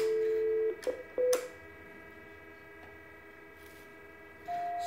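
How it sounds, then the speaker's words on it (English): Keypad tones from a Cisco SPA IP phone dialing 71 for call park pickup: a steady dial tone, then two short button beeps, a quiet gap and another tone starting near the end. "So they dial 71."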